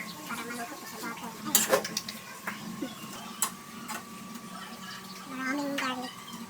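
Dishes being washed in a home kitchen, with scattered clinks and clatters of pots, plates and cutlery over running background noise, a few sharp knocks standing out near the middle.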